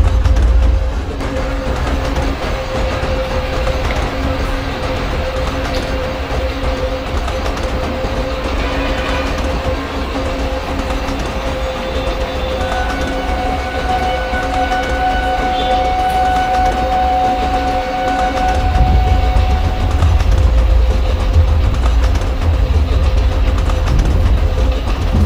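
Passenger train 51809 Kanpur–Tundla Fast Passenger rolling on a loop line at Govindapuri junction in Microsoft Train Simulator, a continuous low rumble of wheels and engine with faint tonal hums, growing heavier toward the end.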